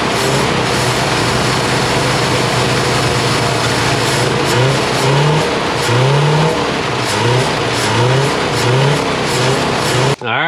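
A 1972 Ford F-250 engine runs loud and close, its revs rising and falling in repeated surges for about ten seconds before cutting off abruptly.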